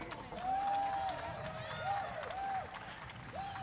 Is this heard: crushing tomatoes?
no